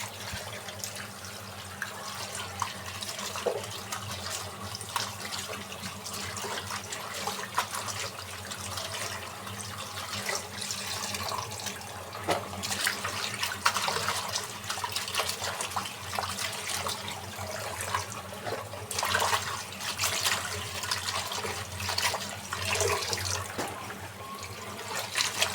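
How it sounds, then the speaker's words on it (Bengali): Bottle gourd leaves washed under a running tap in a home kitchen, a steady splashing and trickling of water that continues throughout without a break, moderately close. "লাউ শাকটা একটু ভালোভাবে ধুতে হয়।"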